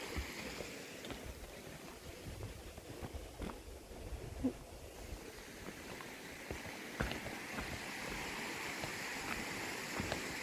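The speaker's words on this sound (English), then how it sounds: "So it goes down a waterfall right there." A trail-side stream flows down toward a waterfall, giving a faint, continuous rushing wash with a few soft knocks scattered through it.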